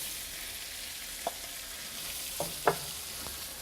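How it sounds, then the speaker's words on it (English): Diced onions and blanched potatoes fry in a pan with a steady, soft sizzle, broken by a few faint scrapes and clicks of stirring. "we can go ahead and add our potatoes, which again are blanched, so we're going to finish cooking them off"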